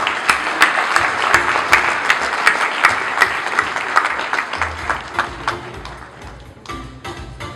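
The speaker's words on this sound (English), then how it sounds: "Give her a round of applause." An audience at an awards presentation breaks into sustained, loud applause, dense clapping with sharp individual claps standing out, continuing steadily before thinning near the end.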